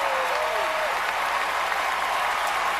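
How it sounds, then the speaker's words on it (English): Standing ovation applause in a large arena at the Grammys, a dense, loud wash of clapping and crowd noise heard continuously throughout. "Oh, look at that standing ovation."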